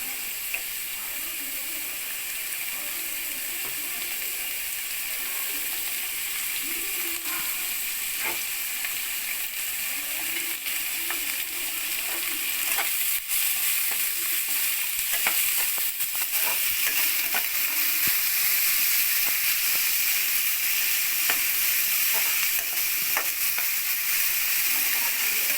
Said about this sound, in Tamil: எப்போவுமே ஆனியன் போட்ட உடனே நம்ம சால்ட் போட்டுடணும். அப்போ தான் ஆனியன் சீக்கிரமாக ஃப்ரை ஆகும்.